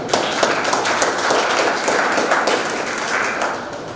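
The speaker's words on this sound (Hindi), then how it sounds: "एक बार सभी बच्चों के लिए जोरदार तालियां बजाएंगे।" Sustained, dense applause from an audience honouring students at a moot court event at a government law college in Nagaur. Many hands clap steadily and loudly through the whole stretch, with no pause.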